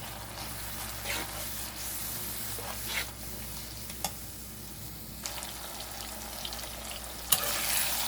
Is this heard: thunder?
no